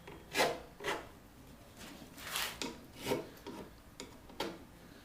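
Rat tail file rasping into the nocks of a wooden bow tip, a series of distinct rough strokes spaced about half a second to a second apart, close and fairly quiet with no talking.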